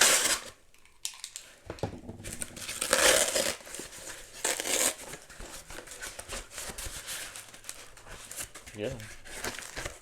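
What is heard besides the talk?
opening plastic packaging of Criterion Blu-rays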